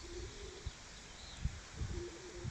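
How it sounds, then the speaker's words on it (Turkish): A young Arab yellow-eyed pigeon chick makes faint, short chirping calls, a few soft peeps scattered over a couple of seconds against quiet background noise. "Daha cücük cikcik ötüyor."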